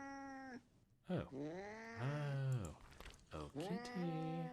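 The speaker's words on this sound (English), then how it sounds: "It's a very lively cat." A cat meows repeatedly up close, giving several long, wavering cries in quick succession.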